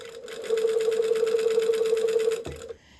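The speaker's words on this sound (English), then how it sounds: "Be sewing right on that line for a little bit" A sewing machine runs a 2.5 millimeter stitch along a shirt seam: a steady, close mechanical hum with fast rhythmic needle chatter for about two seconds, then it stops abruptly.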